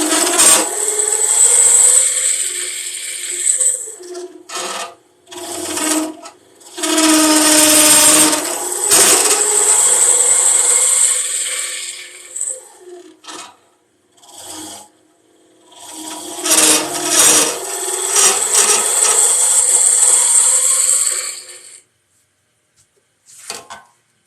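Wood being turned and hollowed on a lathe for a lidded box, a tool driven straight in to round it out, giving long harsh scraping and rasping bursts separated by short pauses, close and loud.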